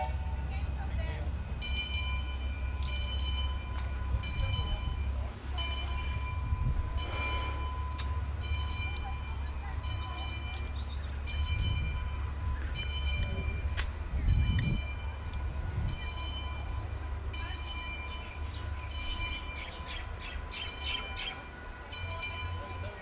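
A small sightseeing train runs through the Dole pineapple plantation in Hawaii, its steady rumble and repeating rhythmic clatter heard close by for the whole stretch, with birds chirping and people talking over it.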